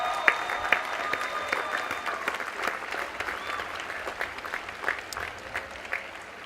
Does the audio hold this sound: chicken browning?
no